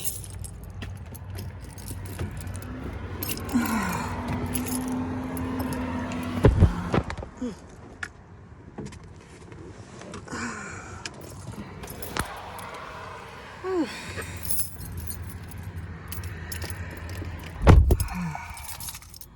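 A bunch of keys jangles and clinks while a house door is locked, with bursts of metallic rattling, a thud, and passing car noise outdoors.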